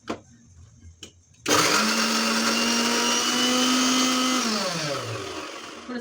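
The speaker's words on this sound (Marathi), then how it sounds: "लसूण आणि हिरवी मिरची जी आहे ती मी आता मिक्सरला फिरवून घेणार" A mixer grinder whirs up garlic and green chillies, starting abruptly after a couple of faint knocks and holding a loud, steady motor whine with a rough grinding roar, close by with no voices.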